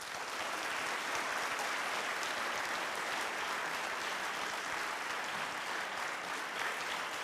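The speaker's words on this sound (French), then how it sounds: "On peut vous applaudir très fort." Steady applause from an audience at an apprentice diploma ceremony, dense even clapping that holds for the whole stretch without a break and with no voices over it.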